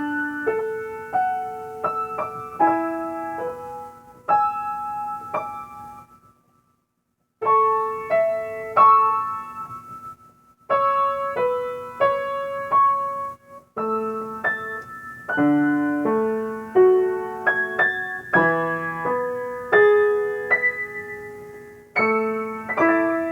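Solo piano plays a connected, legato melody with chordal accompaniment, close and moderately soft, phrases separated by a couple of brief pauses before a busier closing passage.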